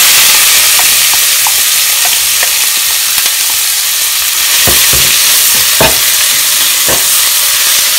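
Finely chopped onions hit hot oil with sputtering cumin seeds in a pan for a black-eyed bean curry, giving a loud, dense, steady sizzle with scattered crackles and pops throughout.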